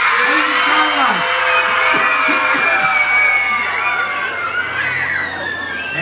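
A room full of children shrieks and screams together, imitating a pumpkin's hideous scream, in a loud, sustained chorus of overlapping high voices with wavering pitch that keeps going for several seconds.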